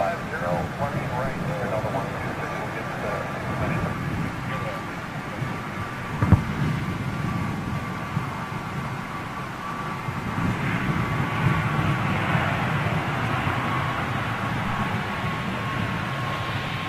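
A China Southern Cargo jet takes off at Amsterdam, its broad, rumbling roar building steadily in the distance beneath continuous talk.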